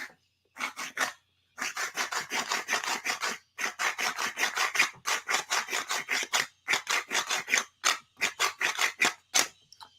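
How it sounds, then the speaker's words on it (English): A hand grinder being turned gives a dry, raspy rubbing texture in close, rapid bursts with short pauses between runs, fairly loud and with no talking. "That's my grinder."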